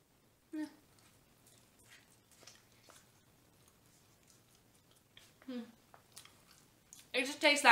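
Someone crunches and chews a snack in a few separate bursts, with soft mouth noises in between. A louder rustle comes near the end.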